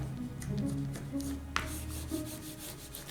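Paper being burnished down onto a hard cover journal by hand: a close, continuous soft rubbing and scraping that runs throughout, with a brief sharper tap midway.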